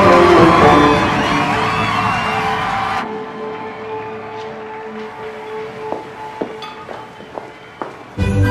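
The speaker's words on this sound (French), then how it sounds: "On applaudit Shane Rock." An audience applauds and cheers for celebrity chef Shane Rock in a loud, dense burst lasting about three seconds. It cuts off abruptly, leaving a quieter room with scattered clicks and knocks.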